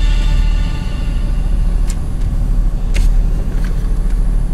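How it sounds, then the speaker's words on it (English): A truck being moved out of the way, its engine giving a loud, steady, close rumble with a few faint clicks and no talking. "so now we just gotta move the truck out of the damn way"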